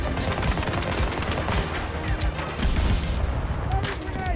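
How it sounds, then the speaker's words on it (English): Gunfire in the video game Battlefield 2042, with rapid automatic bursts and scattered shots over a dense battle din, loud and continuous, while a player talks throughout. "I'm getting shot in the head."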